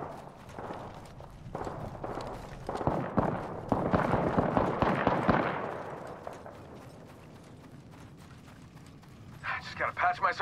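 A rapid run of gunshots in Apex Legends, dense and fairly close, then tapering off, with a player talking over it.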